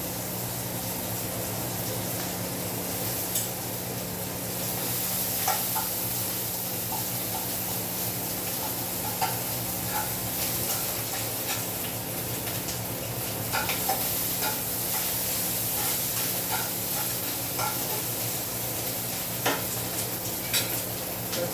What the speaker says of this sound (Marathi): आता टाकू जिरा. जिरा लगेच भाजला जातो.